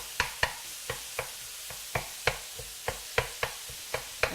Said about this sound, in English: So we just want to break that hamburger up a little bit.